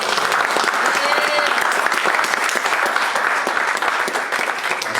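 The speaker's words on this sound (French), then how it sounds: "On peut acclamer Dieu." A church congregation at a service in Paris applauds and cheers for God, a dense, steady wash of clapping from a large crowd filling the room for the full five seconds.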